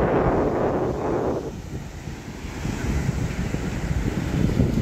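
Wind and sea waves roll in at Devgad beach at sunset, making a steady broadband roar with strong wind buffeting on the microphone and a continuous surf wash, with no voices.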